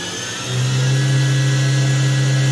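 A Doosan DNM400 high-torque vertical machining center spindle spins up and holds at 4,000 RPM, a loud steady mechanical whine with a strong constant hum that rises sharply after a moment and then stays even.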